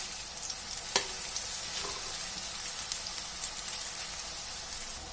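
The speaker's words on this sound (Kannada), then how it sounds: "ಹಸಿ ವಾಸನೆ ಎಲ್ಲ ಹೋಗಿ ಚೆನ್ನಾಗಿ ಫ್ರೈ ಆಗಬೇಕು ಬದನೆಕಾಯಿ" Large brinjal pieces frying in oil, giving a steady, even sizzle and crackle with one sharp clink early on.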